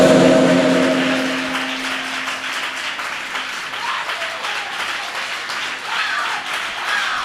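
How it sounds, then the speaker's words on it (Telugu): A church congregation bursts into sustained applause, many hands clapping in a dense, roomy wash that starts loud and then settles to a steady level. "చప్పట్లు కొట్టి సంతోషించండి."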